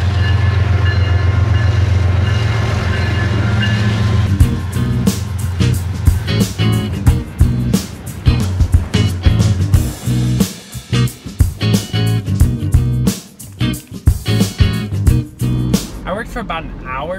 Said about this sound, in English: this train is so loud.